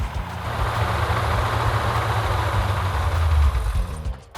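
A freshly built Mopar 340 V8 with a lifter fault runs at a steady idle, giving a continuous deep rumble with a faint mechanical ticking layered over it, close by and loud before it dips slightly near the end.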